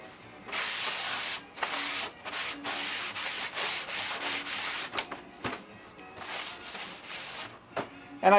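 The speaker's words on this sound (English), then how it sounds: "bring it over to that sanding strip" A glued wooden model airplane fuselage part is rubbed back and forth on a sanding strip, giving loud rhythmic rasping strokes in bursts with short pauses between them.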